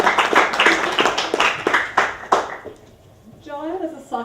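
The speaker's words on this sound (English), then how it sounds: "So can we give her a round of applause?" A small audience gives a round of clapping with distinct, rhythmic individual claps that thin out after a couple of seconds, followed by a speaker's voice.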